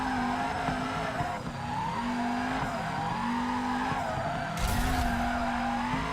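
Tires squeal continuously as a car drifts in the video game FURIDASHI Drift Cyber Sport, with a wavering engine tone underneath and a brief louder burst near the end.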